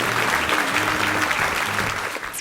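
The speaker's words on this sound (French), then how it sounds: "Allez, on l'applaudit." Audience applause at a musicians' gathering, steady dense clapping throughout, fairly loud and unbroken, tapering slightly at the end.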